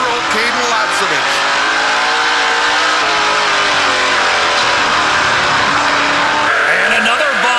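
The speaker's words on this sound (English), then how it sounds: "And another bump out of Caden Lapcevich, just enough to upset that race car and move the 32 up half a lane." Race cars roar around a short oval track in a close battle for the lead, engines loud and sustained with revving, tire squeal and cars sweeping past, with a commentator's voice talking over the din.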